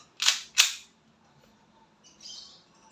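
A WE 1911 MEU airsoft pistol fires two sharp, close cracks in quick succession, followed by a faint hiss and quiet.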